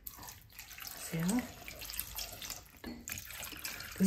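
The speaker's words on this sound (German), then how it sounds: "Das ist jetzt ein bisschen Rosmarinwasser." Rosemary water is poured into a blender for a homemade melon drink, a soft, running liquid splash rising in the middle, with faint speech-like sounds around it.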